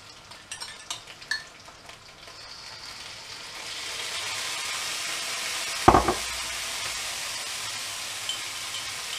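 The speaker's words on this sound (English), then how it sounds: "So into there goes our vegetable stock." Vegetable stock pours into a pan of softening vegetables, raising a broad hissing sizzle that swells and holds steady, with a sharp clatter midway and light utensil taps early on.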